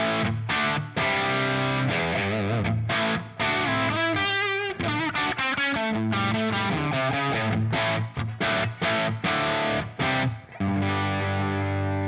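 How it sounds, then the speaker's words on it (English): Electric guitar through a solo lead crunch amp model and 4x12 Cali V30 cabinet, crunchy overdriven rock riffs with punchy chords, brief gaps and sustained notes, loud and close with no talking. "all the way over to the solo lead crunch going through the previously mentioned 412 Cali V30."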